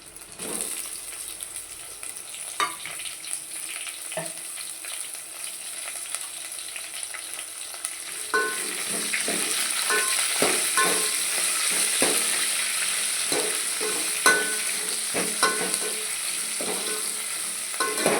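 Sliced onions hit hot oil with curry leaves for tomato rasam and set up a steady sizzle. Intermittent stirring clicks and scrapes run through it, close up and without voices.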